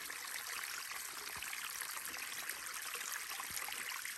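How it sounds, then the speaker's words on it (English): A fresh mountain stream tumbles beside a hiking trail on Tenerife in the Canary Islands, a steady bright rushing and gurgling of water heard close by without talk. "Stream."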